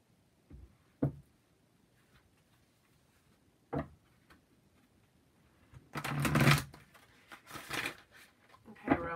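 Romance Angel oracle cards being handled and shuffled: a few soft, isolated taps come first, then a dense, riffling shuffle a couple of seconds long, all fairly quiet and close.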